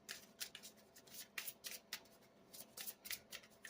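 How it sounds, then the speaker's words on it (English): A tarot card deck being shuffled close up, giving repeated quick riffling bursts in a steady rhythm, fairly quiet, with no talking. "You seen how many times I shuffled it, same card came out."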